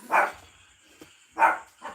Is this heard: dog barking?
yes